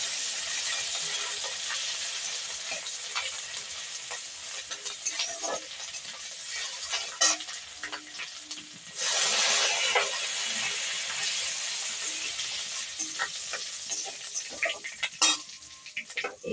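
Grated ginger and cumin seeds frying in hot oil for a Bengali banana-blossom chop, a steady close sizzle with a brief louder surge of hissing partway through and scattered clinks of a spoon against the pan.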